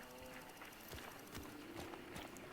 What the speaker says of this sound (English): And I hear footsteps.